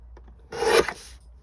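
A single short rasp of paper being cut with a trimmer while sizing a shaker card element, close and fairly quiet, lasting about half a second amid near silence.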